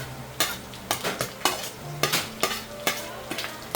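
Onion and garlic fry in a pan with a steady sizzle, broken by loud, regular scrapes and clatters of a spatula stirring roughly every half second, close and without talk.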